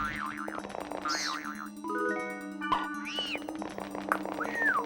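A cat egg in the .hack//Outbreak video game gives small shrieking, meow-like cries. Several bouncy, warbling electronic game tones, some rising and falling, are layered over a steady low hum.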